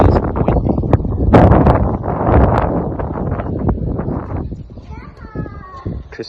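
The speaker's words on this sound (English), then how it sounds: "it's so windy." Gusty wind rumbles and roars against the microphone throughout, with people talking underneath and a voice rising toward the end.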